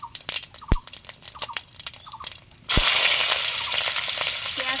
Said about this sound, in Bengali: ঘুগনিতে ফোড়ন দেব। সর্ষের তেল দিয়েছি,